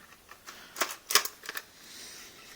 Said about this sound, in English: we just stick the bolt straight in the top of the gun